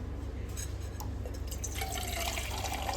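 Water pours into a bowl indoors, with soft splashing and dripping that grows into a fuller, steadier trickle toward the end, close by and fairly quiet.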